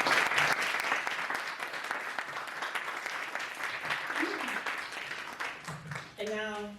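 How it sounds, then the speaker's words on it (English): An audience at a community panel discussion on education gives the panelists a sustained round of applause, dense and steady for about six seconds, then a voice begins speaking at the end. "So can we give them a round of applause?"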